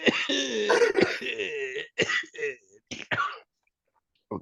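A person coughs and clears their throat repeatedly in harsh, raspy bursts after smoking weed, close up, trailing off into a short silence before one last cough.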